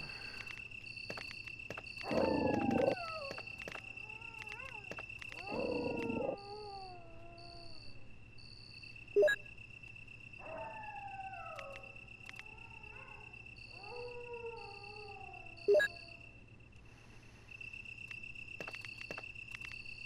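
Zombie dogs in Resident Evil Director's Cut Dual Shock Version snarl and let out descending, whining howls in several separate bursts, set over steady, eerie synthetic game ambience with a few sharp clicks.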